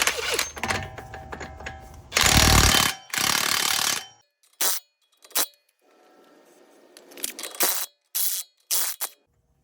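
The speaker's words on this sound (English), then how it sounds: "easiest way is to have an impact drill like this one" Loud bursts of a power impact tool hammering off a Jeep Grand Cherokee front axle nut in short, rattling runs, separated by pauses and brief mechanical clicks, close by with no talking.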